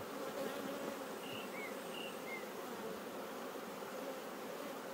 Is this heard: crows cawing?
no